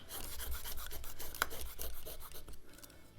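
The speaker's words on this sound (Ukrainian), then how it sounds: "О, ясінь тверде, отако попиляємо ним." A kitchen knife blade rasps back and forth against hard ash wood in quick, gritty strokes, a dry scraping sawing sound heard close up.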